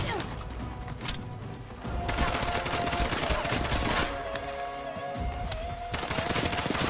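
Rapid gunfire in the shooter game Bright Memory: Infinite, a dense rattle of repeated shots with impacts and combat noise running the whole time, loud and continuous.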